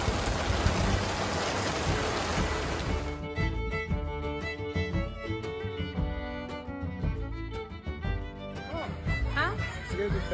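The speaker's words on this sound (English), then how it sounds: "And along with every camping trip, is the traditional rainstorm." At a campground, a rainstorm pours as a dense, loud hiss for about three seconds before the sound shifts to a quieter, more broken mix.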